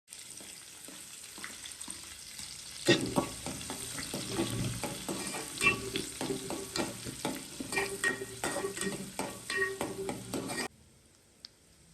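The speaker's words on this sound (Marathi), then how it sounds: "आता मी त्याच टोपामध्ये फोडणी देणार आहे." Onion and tomato tempering in oil for a mutton curry: a sudden burst of loud sizzling with stirring clatter, crackling steadily up close, then cutting off near the end.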